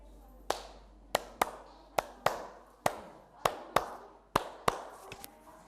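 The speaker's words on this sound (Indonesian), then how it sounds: "Madam menghibur pakai tepuk pramuka aja ya." A rhythmic pramuka scout clap rings out in a room, about a dozen sharp claps in a patterned beat with short and longer gaps, fairly close and clear.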